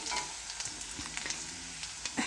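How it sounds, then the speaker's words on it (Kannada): Ginger and garlic fry in a pan with a steady sizzle, broken by a few light stirring clicks and scrapes, close and alone with no talk. "ಶುಂಠಿ ಮತ್ತು ಬೆಳ್ಳುಳ್ಳಿನ ಹಾಕಿದ ಮೇಲೆ ಒಂದು ನಿಮಿಷ ಒಂದು ಸ್ವಲ್ಪ ಫ್ರೈ ಮಾಡ್ಕೊಳ್ಳಿ"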